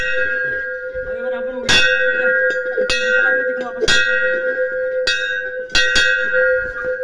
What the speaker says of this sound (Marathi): भाई साहब घंटा वाजून दे रे।